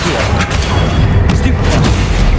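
Spell combat in the Hogwarts Legacy video game, with dense, continuous booming blasts and impacts layered over one another, loud and close throughout, over a steady low rumble.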